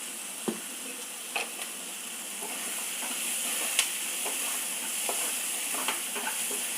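Chopped vegetables sautéing in a pan for a beetroot curry, a steady soft sizzle with occasional clicks and scrapes of a spoon stirring, close and alone without any voices.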